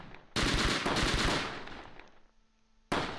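Sustained burst of overlapping gunfire from several squads in a Close Combat World War II battle near Cassino, Normandy, loud and dense for about two seconds before fading, then a fresh burst erupting at the end.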